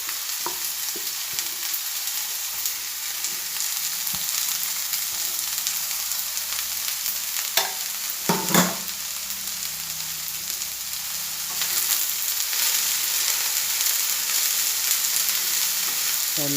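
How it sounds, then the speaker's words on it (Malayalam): Mustard seeds sizzle and crackle in hot coconut oil as a stovetop stir-fry of cowpeas and yam shoots is stirred, a steady close frying hiss broken by a few louder scrapes and pops. "ഇളക്കി കൊടുത്ത് ഒന്ന് യോജിപ്പിച്ചെടുക്കണം ആ വെളിച്ചെണ്ണയും കടുകും"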